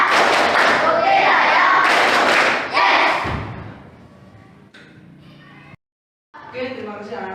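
Classroom children perform the "tepuk sukses" clapping routine, a few seconds of loud rhythmic group clapping with chanting voices that fades out, followed by a brief silence and an adult speaking.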